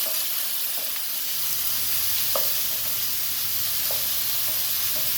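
Continuous loud sizzling and hissing of jumbo shrimp frying in a hot pan, with faint occasional clinks.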